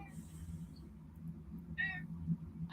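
A pet cat gives a short meow as it waits to be fed at 8 o'clock, heard faintly against a quiet indoor background with a low hum.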